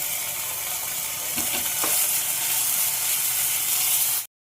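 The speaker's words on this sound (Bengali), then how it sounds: "এবারে দেখো কাঁচা লঙ্কা আর আদা বাটা, এটা দিয়ে দেবো।" Green chilli and ginger paste fries in a pan with asafoetida, making a steady, bright sizzling hiss with a few faint clicks near the start before it cuts off abruptly.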